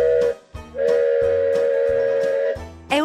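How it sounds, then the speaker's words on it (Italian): Children's toy train chugging into motion with a bright, sustained steam-style whistle, repeated puffs and short bursts, loud and close with no talking. "Il trenino si mette in moto e fischia."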